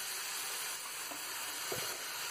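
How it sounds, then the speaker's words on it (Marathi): Diced potatoes sizzle steadily in hot tempering in a Maharashtrian home kitchen, a soft continuous frying hiss with a faint crackle, heard up close with no talking. "आणि याच्यात आपण फोडणीला घालूया आता"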